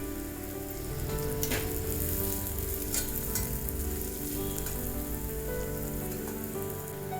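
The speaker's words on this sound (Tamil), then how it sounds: "வெங்காயத்தை நல்லா வதக்கிக்கோங்க." Onions and slit green chillies sauté in hot oil in a pan for a Tamil chana dal vada gravy, giving a steady, close sizzle with occasional stirring clinks and no talking.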